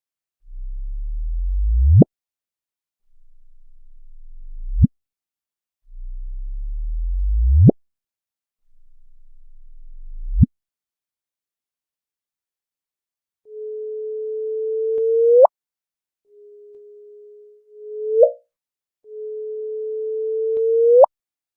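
Gravitational wave signals turned into sound: four low rising chirps that sweep up and cut off, then three higher sustained whistle tones each ending in a quick upward flick, clean and isolated with silence between.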